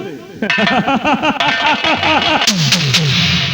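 Gunshots from a stage gun in a Hindi nautanki folk theatre performance about a bandit. A few sharp, close bangs come in a quick cluster near the end, under loud music and voices.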